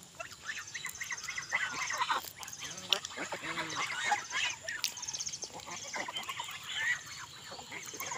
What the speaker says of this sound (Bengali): এগুলো হলো পাতি হাঁস, এগুলো হাঁসের নাম হলো পাতি হাঁস।